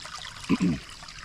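Rainwater trickles at night during heavy rain, a soft steady wash with a couple of brief, slightly louder gurgling spurts in the middle.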